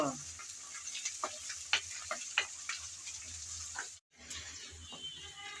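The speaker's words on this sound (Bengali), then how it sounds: "এখন আদা আর রসুন পেঁয়াজের সাথে আবারও একটু নেড়ে চেড়ে বেজে নেব" Ginger, garlic and onion fry in a pan while being stirred, giving a moderate sizzle broken by repeated scraping clicks of a spatula; there is a brief dropout near the end before the sizzling resumes.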